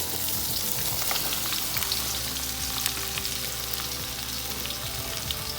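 Potatoes and cauliflower fry in a pan for aloo gobi, a steady close sizzle with crackling pops that stays fairly loud and even, with no voices.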